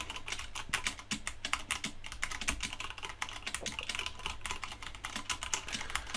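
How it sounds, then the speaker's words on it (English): Steady, fast typing on a computer keyboard as random text is entered into Notepad, with close, crisp key clicks in an irregular rhythm and no talk. "I'm going to type something random."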